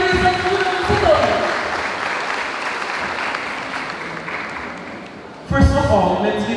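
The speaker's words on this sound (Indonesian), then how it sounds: "Berikan tepuk tangan untuk SMA Negeri 1 Gunung Sitoli." An audience claps for SMA Negeri 1 Gunungsitoli at a school farewell and blessing ceremony, a steady roomful of applause that tapers off before a voice breaks in near the end.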